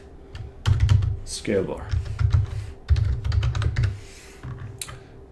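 Typing on a computer keyboard comes in bursts of quick, close clicks and key taps, with a short pause midway, while a person speaks briefly over the keystrokes.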